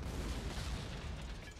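Artillery shots fired in the wartime strategy game Panzer Corps Gold make a steady, dense low rumble of booms running throughout at moderate loudness, with no voice over it.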